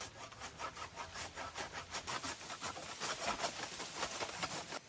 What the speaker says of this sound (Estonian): Ma üritan aru saada, mida sa saed.